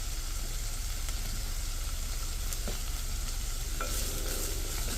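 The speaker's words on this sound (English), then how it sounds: "now we're going to add our tomatoes" Tomatoes go into a pan of onions frying for tomato soup, a steady close hiss and sizzle running throughout with a couple of brief stirring knocks and scrapes.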